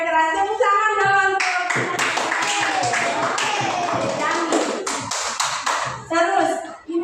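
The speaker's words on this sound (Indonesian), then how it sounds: "Tepuk tangan dong." Students in a Catholic religious education class in Indonesia clap together in a burst of brisk applause that lasts several seconds, with a teacher's voice speaking before and after.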